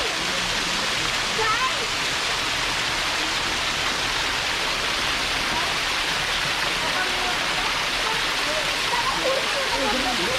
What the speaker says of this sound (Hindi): ये ऊपर से आ रहा है बहते हुए झरना।